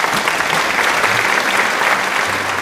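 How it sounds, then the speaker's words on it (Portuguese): Loud, steady audience applause fills the whole stretch, dense clapping from a studio crowd with no voices over it. "Aplausos, plateia."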